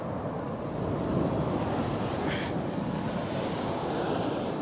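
Sea waves washing onto Bee Sands Beach in South Devon during heavy rain: a steady, loud, broad roar of surf mixed with wind buffeting, with no voices.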